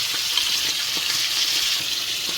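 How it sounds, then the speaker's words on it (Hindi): Water is poured into fish masala cooking in a hot pan, and the pan keeps up a steady, close hiss and sizzle with faint bubbling, with no one speaking. "हल्का सा मैंने पानी डाला उसको थोड़ा अच्छी तरह से मिलाने के लिए।"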